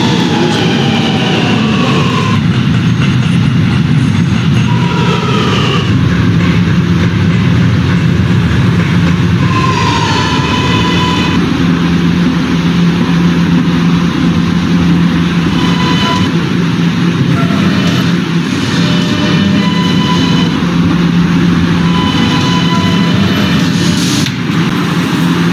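An R subway train in a game runs continuously, its loud rumble and rattling clatter filling the ride, with brief rising and falling whines from the motors.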